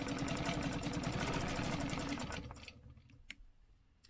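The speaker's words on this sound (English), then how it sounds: "I'm gonna go ahead and stitch these lines." A sewing machine stitching lines on a stenciled piece, a fast steady mechanical whir that runs for over two seconds, then stops and leaves a few soft clicks.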